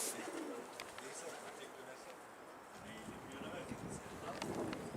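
A homing pigeon coos softly amid outdoor ambience and light breeze, with people talking nearby.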